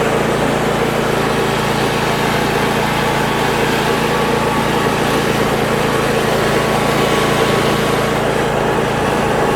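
Husqvarna and Craftsman riding mower engines run continuously up close, giving a loud, steady small-engine buzz with no pauses.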